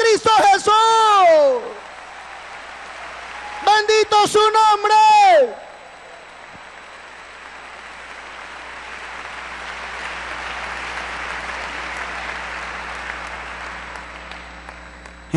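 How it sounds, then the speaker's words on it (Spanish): Applause breaks out from an audience at a church testimony gathering, a steady dense clapping that fills the hall and continues after a man's loud, impassioned preaching near the start. "¡Dale un fuerte aplauso a Cristo Jesús!"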